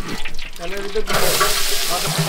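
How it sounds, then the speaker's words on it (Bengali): Onions tipped into 3 litres of hot oil for a one-maund batch of Bogura-style fish alu ghati at a village feast: a sudden broad sizzle erupts about a second in and keeps hissing, with voices talking nearby. "হ্যাঁ, পেঁয়াজ দিচ্ছি তেলের ভেতর"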